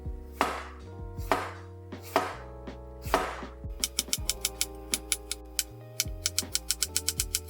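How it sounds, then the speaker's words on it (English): Potatoes sliced with a knife on a cutting board for Danish scalloped potatoes: a run of crisp, close knife taps landing on the board, slow at first, then quicker and evenly spaced, over a steady tonal background. "As I'm cutting, I like to just leave the potatoes on the cutting board in the order that I cut them"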